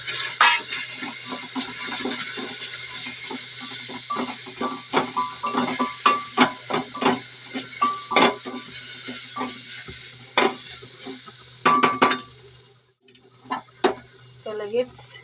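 Tomato drops into hot ghee with coriander powder and garam masala, crackling and sizzling under repeated sharp scrapes and clinks of a spoon against the pot, with a brief pause near the end.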